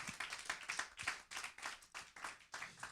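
A church congregation at a pastor's sermon claps to acclaim the King of Kings, rhythmic group clapping in regular pulses, fairly quiet and slightly distant.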